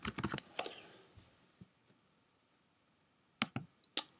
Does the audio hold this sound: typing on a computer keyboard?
yes